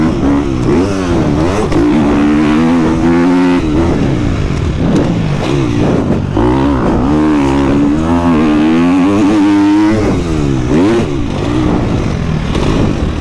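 A Gasgas 250 MCF motorcycle rides the Saint Jean d'Angély circuit, its engine loud and close, revving up and down continuously as it accelerates and shifts, with no voices.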